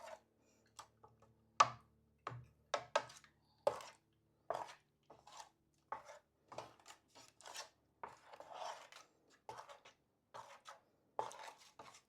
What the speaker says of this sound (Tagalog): Tuloy-tuloy lang ang paghalo.